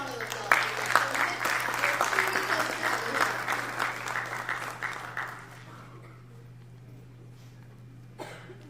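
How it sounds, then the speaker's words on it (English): Audience at a blockchain summit in Gujarat breaks into dense, sustained applause of many hands clapping, which fades out after about five seconds, leaving quiet room tone and a brief clap near the end. "give him a huge round of applause"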